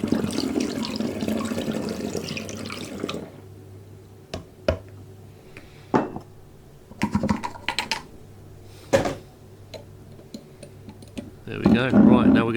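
Homemade rosehip drink mixture is poured into a bottle: a dense, steady liquid rush for about three seconds, followed by scattered clicks and glassy knocks from handling the bottle.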